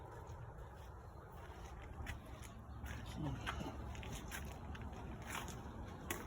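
A Sea-Doo personal watercraft engine drones steadily, rumbling under wind and splashing water, with occasional faint voices nearby.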